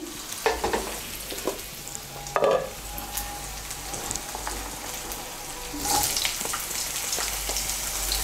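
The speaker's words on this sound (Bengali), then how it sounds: "নাড়াচাড়া করে নিয়ে এর মধ্যে দিয়ে দেবো কেটে রাখা লাউ।" Cut pieces of a small, tender bottle gourd go into hot oil in a pan and are stirred. Scattered clinks and scrapes build into a louder, sustained sizzle near the end, heard close up with no speech.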